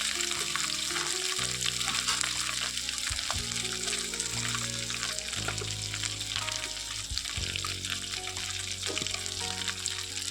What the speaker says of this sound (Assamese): নহৰুখিনি ভাজি ল'লোঁ, ভাজি লোৱা হৈ গ'ল আৰু ইয়াতে দি দিম কচুখিনি